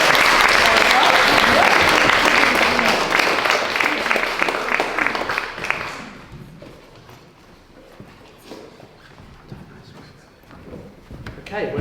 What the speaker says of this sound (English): We have a round of applause for your amazing children.